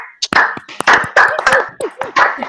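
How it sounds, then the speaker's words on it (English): Several sharp claps ring out in an irregular burst, close and loud, mixed with other busy noise. "Can you clap for Yeah. Augusta?"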